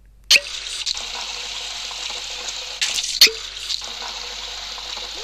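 Water runs and splashes steadily in a video game, a continuous hissing flow with two sharper splashy bursts near the start and middle, fairly close and with no talking.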